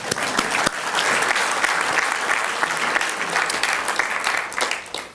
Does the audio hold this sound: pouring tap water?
no